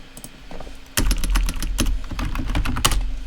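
Rapid clacking keystrokes on a computer keyboard, close and crisp, in an uneven burst of typing after a brief pause.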